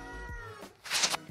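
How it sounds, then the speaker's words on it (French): A house cat meows a few times at close range inside a home, with drawn-out, fairly loud calls that rise and fall, and no talking over them. "le chat vient d'apparaître"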